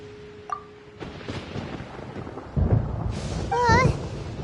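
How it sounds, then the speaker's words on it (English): Thunder in the video game Genshin Impact rolls in as a deep, loud rumble. It builds over light rain and ends with a bright chiming, warbling tone near the end. "Paimon hears thunder!"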